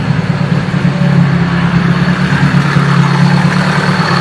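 A turbocharged car engine idles with a slightly fluctuating RPM, a steady loud low hum with a strong droning tone that wavers gently, heard close and alone.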